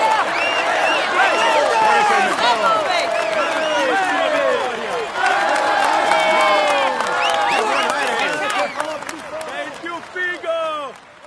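A crowd cheers and applauds the Nantua-Chambéry stage winner of the 2017 Tour de France at the podium, a dense, loud wash of shouts and clapping that tapers off near the end.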